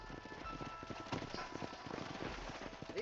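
Horse hooves clip-clop in Red Dead Redemption, a steady run of close, moderately loud hoof strikes over a busy ambient bed, with no voices.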